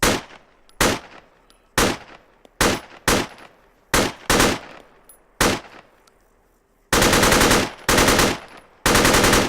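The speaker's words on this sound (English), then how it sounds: "the NiArms rifles, they've got a much meatier noise" Video-game gunfire from a NiArms mod rifle: loud, close bursts of automatic fire in short clusters, then longer sustained strings of rapid shots, with no talk.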